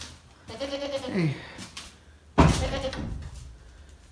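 A goat bleats twice during morning farm chores, a wavering call up close followed by a louder, harsher bleat after a brief pause, with a person briefly speaking.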